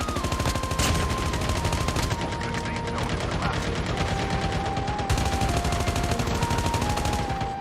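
Dense, continuous gunfire from a shooter video game, rapid shots rattling steadily for several seconds under faint talk.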